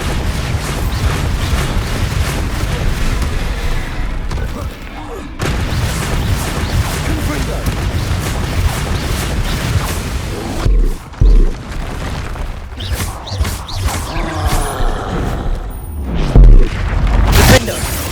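Bombarda blast spells in the Hogwarts Legacy video game, a series of deep booming impacts mixed with clashing combat effects and spoken spell names, dense and loud with a few sharp low thuds near the end.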